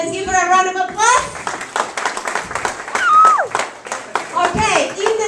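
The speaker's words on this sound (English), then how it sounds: "Let's give her a round of applause." Applause for a dancer who just performed a rumba at a dance event, sharp hand clapping breaking out amid voices and children talking, continuing in bursts under the chatter.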